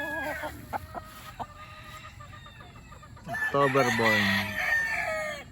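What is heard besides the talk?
young roosters crowing and clucking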